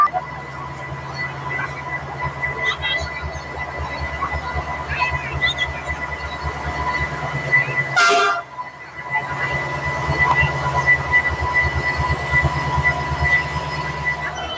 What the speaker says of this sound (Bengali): আমাদের যে 12871 যে ইস্পাত এক্সপ্রেস, সেই ট্রেনটা দিয়ে দিয়েছে।